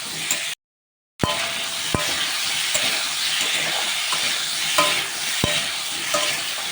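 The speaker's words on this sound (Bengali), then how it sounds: "আলুগুলো দিয়ে সামান্য পরিমাণ লবণ হলুদ দিয়ে ভালোভাবে লাল লাল করে ভেজে তুলে নেবো" Potatoes with salt and turmeric fry in hot oil in a pan. A steady close sizzle runs throughout, with sharp clinks of stirring at intervals and one brief gap of silence near the start.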